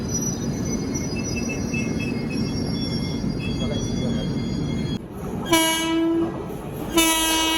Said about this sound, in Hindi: 19013 भुसावल कटनी एक्सप्रेस क्रॉस करते हुए